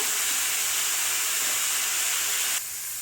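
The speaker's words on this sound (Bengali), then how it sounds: "ডাঁটা হালকা করে ভাজবো, পুরো লাল করবো না।" Pumpkin stalks frying lightly in a pan make a constant, even sizzling hiss that drops in level abruptly near the end.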